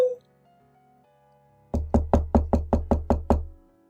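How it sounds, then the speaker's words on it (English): Nine sharp, evenly spaced knocks on a front entrance door ring out loud and close in quick steady rhythm, after a brief faint chime-like tone and a quiet pause. "I heard the entrance doorbell ring and the sound of knocking"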